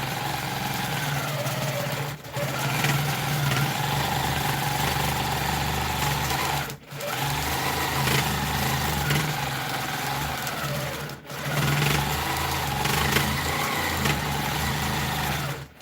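A sewing machine runs steadily for edge to edge free motion quilting, a continuous loud mechanical hum with three brief pauses between stretches of stitching.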